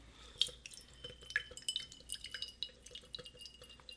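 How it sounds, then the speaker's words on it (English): Extra water is poured off soaked broccoli sprout seeds in a jar, giving a faint, close run of dripping and trickling with small glassy clinks throughout. "Then you're going to pour out the extra water,"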